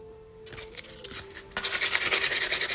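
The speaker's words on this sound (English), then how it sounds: "getting that bottom is a pain in the neck" Abrasive sanding of the bottom of an 18-ounce Hydro Flask stainless steel tumbler, quiet rubbing strokes at first, then louder rapid back-and-forth scraping, close up and without speech.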